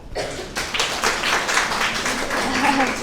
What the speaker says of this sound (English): So can we all clap for her?